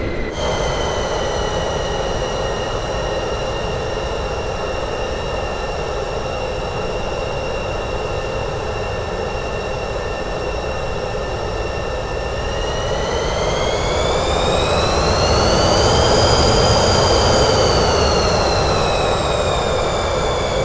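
Aircraft engine held at full throttle in a flight simulator game, a steady whining drone with tonal harmonics that rise in pitch late on, continuous and loud with no talk.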